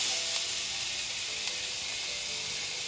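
Four cloves of garlic and a diced onion hit hot pork pan drippings, giving a steady, fairly soft hiss of frying that holds evenly with no talking.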